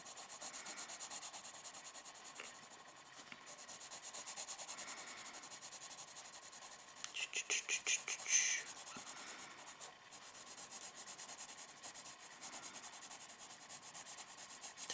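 Pencil scratching and rubbing across paper while drawing a Gravity Falls Book 3 page, a steady close soft scraping texture with a brief louder burst of quicker strokes midway, no talking.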